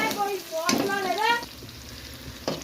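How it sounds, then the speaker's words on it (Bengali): Onion frying in oil with black cumin seeds makes a soft sizzle beneath a speaking voice, with a few sharp stirring scrapes. "এই যে পেঁয়াজ ভাজা হয়ে গেল"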